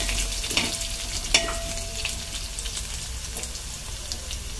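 Kappa biriyani mixture is stirred in a frying pan over a soft continuous sizzle, with a few distinct scraping and clinking strokes of the spoon, close and fairly quiet, without talk.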